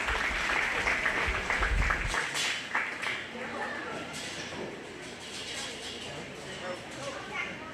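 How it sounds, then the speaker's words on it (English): Audience applause at a 4-H/FFA goat show, a burst of clapping that tapers off under an announcer's voice on the loudspeaker. "Give her a big round of applause."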